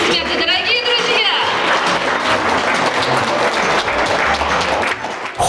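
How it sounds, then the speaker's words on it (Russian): Loud, dense audience applause fills the whole stretch, a steady wash of clapping from a crowd at a public ceremony honouring a cycling king and queen, with a faint voice briefly audible beneath it. "Под ваши бурные аплодисменты, дорогие друзья!"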